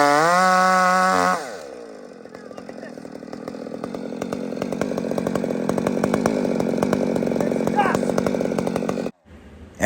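A chainsaw revs up and bites into a tree making an undercut, a loud, close, steady cutting whine with a gritty rasp that cuts off abruptly near the end.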